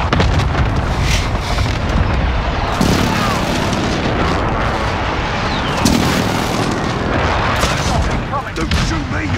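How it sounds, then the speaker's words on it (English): Airstrike explosions in Call of Duty: Modern Warfare multiplayer, with heavy continuous booms and rumbling blasts layered with gunfire-like crackle, loud and dense throughout, with game voices mixed in. "Be advised, friendly precision airstrike inbound."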